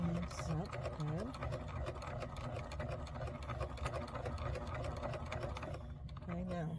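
A home sewing machine stitches steadily at close range, a continuous rapid mechanical whirr with a fine regular needle rhythm, while a person talks over it.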